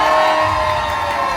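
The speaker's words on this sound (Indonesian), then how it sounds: "Berikan tepuk tangan untuk Ibu Shirley Choa" A press conference audience at a film gala premiere cheering and clapping for a guest, a loud dense wash of crowd noise with whoops filling the whole short moment.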